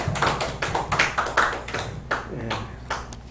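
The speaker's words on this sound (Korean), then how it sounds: "자, 우리 자축하는 의미에서 박수 한번 합니다." A small audience of class members clapping in celebration, a loose scatter of distinct, close hand claps with irregular rhythm, faint talk mixed in.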